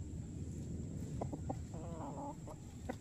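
A chicken gives a short series of soft, close clucks over a steady background hiss.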